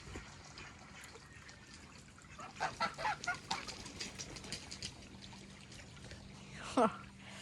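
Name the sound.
greylag geese honking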